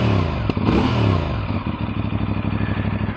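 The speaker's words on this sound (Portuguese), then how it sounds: "Olha este sonzinho. Não resisto. Pá, este escape é o escape de origem" A CFMoto NK450 motorcycle on its stock exhaust revs hard up close, a loud rising engine roar that settles into a steady, throbbing idle with a fast, regular pulse.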